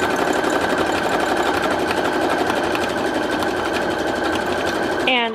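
A Brother Project Runway CE1100PRW sewing machine stitching a ladder stitch, heard as a loud, steady, fast mechanical whir with a rapid even needle rhythm throughout that ends with a short rising whine.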